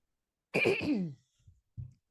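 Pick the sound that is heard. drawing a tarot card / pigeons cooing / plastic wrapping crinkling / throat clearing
throat clearing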